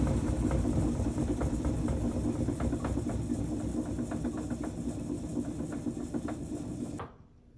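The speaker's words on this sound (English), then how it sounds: "the drain pump kicks on and the motor begins to spin for about 4 seconds" A GE top-load washer's drain pump and motor run together as a steady, fairly loud mechanical hum with faint ticking for about seven seconds, then cut off abruptly into near silence.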